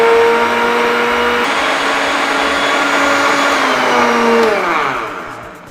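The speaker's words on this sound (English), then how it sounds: "Okay, so I'm going to do the blending now. Onions, at least 1 bulb, fresh pepper, pepper to your taste, and crayfish." A kitchen blender whirs steadily as it purées onions, fresh pepper and ground crayfish for egusi soup, a loud continuous motor whine that holds for several seconds, then drops in pitch as it slows down near the end.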